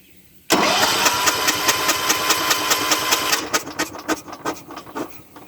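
A 1970s John Deere 212 lawn tractor engine cranks over with its spark plug out, giving a loud, steady, rapid mechanical churn that becomes choppier and uneven toward the end.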